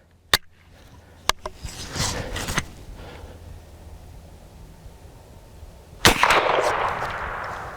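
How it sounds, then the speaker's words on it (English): Springfield Armory 1873 Trapdoor rifle firing: one sharp, loud report followed by a long rumbling decay outdoors, with a few smaller clicks and knocks before it. "I'm gonna shoot it one more time, see if I can do a little bit better than that"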